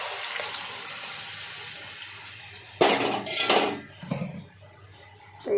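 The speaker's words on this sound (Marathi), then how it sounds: "आणि आता ह्याच्यामध्ये भेळ मिक्स वतून टाकायची" Dry bhel mix tipped from a container into a pan of roasted coconut and onion, a sudden rushing clatter in a few close bursts over a faint background hiss, with no talk.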